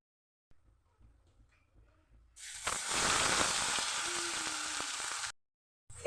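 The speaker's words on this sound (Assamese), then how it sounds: "এতিয়া এই পেষ্টখিনি অলপ সময় ভাজি ল'ম।" Spice paste with cloves, cardamom and bay leaf dropped into hot oil bursts into a loud, steady sizzle that lasts about three seconds and then cuts off, preceded by quiet low handling noise.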